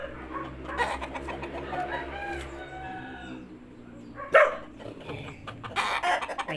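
Mahogany Rhode Island Red chickens cluck and call from a small pen, several birds overlapping in a busy, close chorus with a sharper squawk partway through and livelier clucking near the end.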